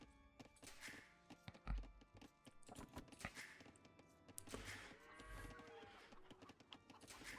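Cattle moo in the Age of Empires 2 video game, a couple of low lowing calls among clicks, thunks and busy game effects.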